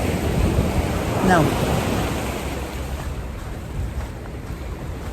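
Ocean surf washing onto a shoreline near tide pools, a continuous broad rushing wash with some wind noise on the microphone and a brief voice speaking near the start.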